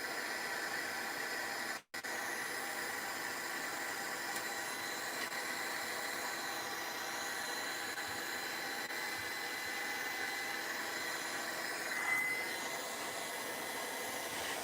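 Hair dryer or heat tool blowing steadily on mixed-media flowers on a craft project, a continuous loud broadband whoosh with one brief cutout near the start and a slight swell toward the end.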